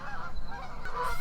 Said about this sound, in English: fortunately enough, geese are getting off the roost